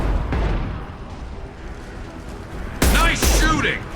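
Video game rifle fire in Mass Effect bursts out in loud, crackling volleys late in the moment, over a busy rumbling battle backdrop with voices speaking.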